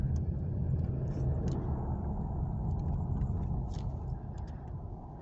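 A Camaro V6 slowing to pull over on a road under paving work, its steady low engine and tire rumble easing and fading slightly toward the end, with no talking.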